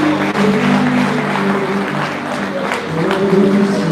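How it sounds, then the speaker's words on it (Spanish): A church congregation claps in praise during a general worship gathering, a steady dense patter of applause over sustained musical tones, continuous and fairly loud throughout. "Le damos un fuerte aplauso al Señor."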